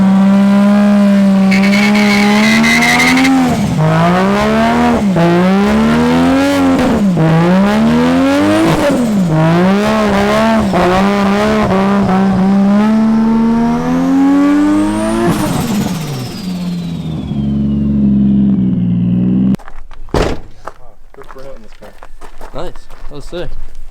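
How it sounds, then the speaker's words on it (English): A turbocharged car with a seat delete revs hard on a burnout pad, its loud engine note climbing and falling in repeated surges close by, cutting to quieter crowd and voice noise near the end. "the turbo sounds insane"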